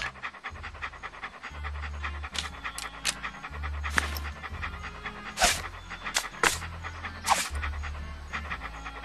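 A dog pants rapidly and steadily up close in the video game Monkey Island 2, rhythmic breathy huffs continuing throughout, with a low droning tone underneath and occasional sharp clicks.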